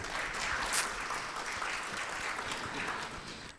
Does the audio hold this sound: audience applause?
yes